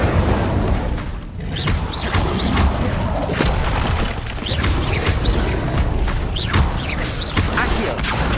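Incendio fire spell in Hogwarts Legacy, cast during a loud, busy stretch of play: repeated booming bursts and mechanical clatter layered over a thick, steady roar of game audio.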